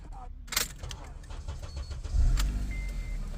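A few clicks and a key rattle, then a 2011 Acura TSX engine cranks and catches after key programming, settling into a low idle.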